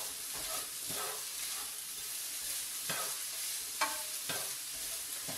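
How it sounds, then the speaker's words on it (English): Vegetables and ground turkey cooking in a pan for acorn squash stuffing give a steady, close sizzle, broken by a few sharp scraping strokes of a spoon as they are stirred; no one speaks. "I'm just going to keep stirring this up until my vegetables are translucent"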